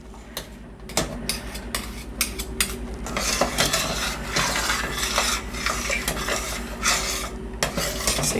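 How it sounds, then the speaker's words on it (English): A spoon scrapes and clinks around a pot of boiling dye-free chocolate pudding, with irregular metallic taps and a bubbling sizzle underneath, close and fairly loud, with no talk. "even if you stir it, it's gonna"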